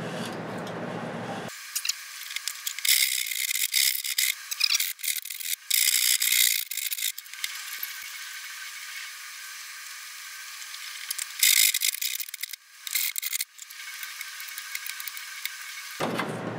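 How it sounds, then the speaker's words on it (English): Screw threads grinding into a hole to enlarge it, followed by a coarse bastard file rasping at the edge, for a Raspberry Pi gas-pipe case install; close, dry scraping strokes in irregular bursts with short pauses, no voices. "I'm going to use the threads of the screws to enlarge the hole just a little"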